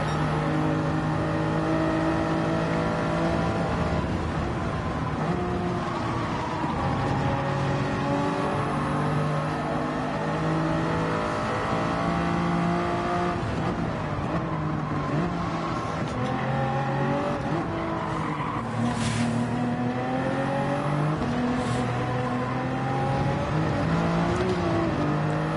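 Race car in a driving video game, its engine whining and revving in long rising and falling sweeps, steady and close, with occasional shifts and brief bursts of extra noise.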